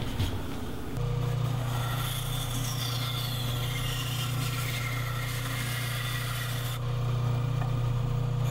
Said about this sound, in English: I'll cut those two out on the bandsaw